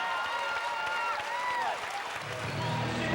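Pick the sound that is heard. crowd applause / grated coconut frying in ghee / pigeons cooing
crowd applause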